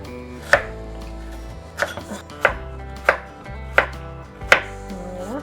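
A knife cuts carrots into thin rounds on a board, six crisp chops spaced roughly evenly, close and clear with nothing else heard.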